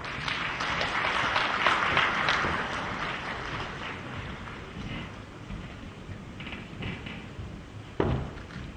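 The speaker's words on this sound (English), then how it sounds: "Ladies and gentlemen, they deserve a round of applause." An audience applauds at an award presentation during a construction symposium, a broad hissing wash of clapping that swells early and fades, with a sharp knock near the end.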